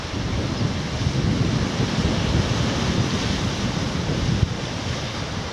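Sea waves wash onto the coast near West Lulworth with a constant, loud surf roar, and wind buffets the microphone throughout.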